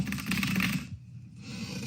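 Very fast typing on a keyboard, a quick flurry of close, light key clicks for under a second before the sound drops away to quiet, then a faint low hum returns.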